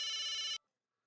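A telephone bell rings loud and steady, with a dense bright ring, for about half a second and then cuts off into silence. It is heard alone, with no talk over it.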